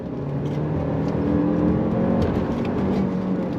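A 2025 Lexus RX500h F Sport Performance hybrid SUV accelerating under throttle, heard from inside as a steady rising engine and motor drone with road noise, continuous and fairly loud, no talking.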